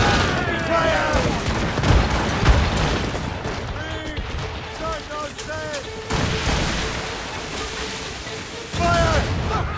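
Naval cannons boom through a sea battle in Assassin's Creed Rogue, with several heavy blasts and rumbling impacts. Crew members shout commands loudly over the gunfire throughout.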